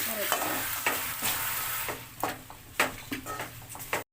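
Turmeric-spiced masala sautéed and stirred in a pan for a fish curry, a steady sizzle broken by repeated scraping strokes of a spoon at irregular intervals, close and fairly loud, with no voices.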